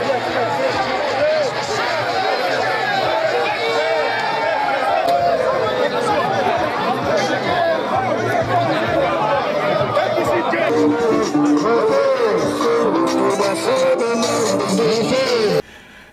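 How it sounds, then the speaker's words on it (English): A mammoth crowd of supporters at an outdoor governorship campaign rally, a dense, steady roar of chatter and babble from many voices close around, continuous throughout before cutting off abruptly at the end. "a mammoth crowd of supporters welcomed them"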